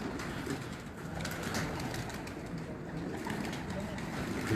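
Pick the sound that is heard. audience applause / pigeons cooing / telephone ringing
pigeons cooing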